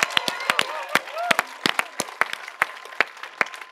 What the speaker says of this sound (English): Make some claps now.